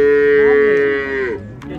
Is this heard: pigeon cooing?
no